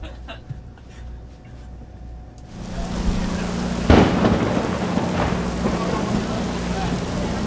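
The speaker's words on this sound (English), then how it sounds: "it's pouring and it's thundering and there's lightning and there's everything" A thunderstorm breaks in at a street race venue: after a quieter start, heavy rain sets in as a steady roar, with a loud close thunder crack and further rumbles over the downpour.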